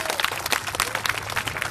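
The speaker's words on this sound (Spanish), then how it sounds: "Fuertes los aplausos, por favor" Applause from an audience at a public event in Pinotepa Nacional, a dense patter of many hands clapping steadily at moderate loudness for a short stretch with no voices over it.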